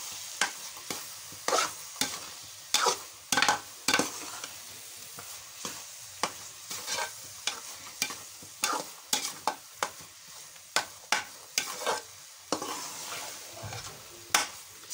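Carrot halwa with milk powder roasting in a pan while being stirred, with repeated sharp scrapes of a spoon in an uneven rhythm over a faint steady sizzle, close and with no talking.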